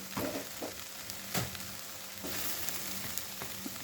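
Okra (bhindi) with coloured bell pepper cooking in a pan gives a soft, continuous sizzle with occasional spatula scrapes and taps, fairly quiet and close, with no voices.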